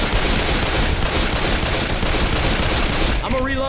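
Dense, continuous gunfire in the zombie shooter game Left 4 Dead, loud rapid shots blending into a constant barrage that breaks off abruptly near the end, where a brief voice is heard.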